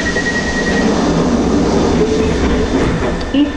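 A London Underground D-stock train runs past the eastbound platform with a steady loud rumble and faint squealing from the wheels, continuous throughout.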